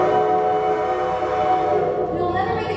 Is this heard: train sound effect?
yes